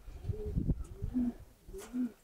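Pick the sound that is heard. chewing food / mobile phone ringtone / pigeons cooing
pigeons cooing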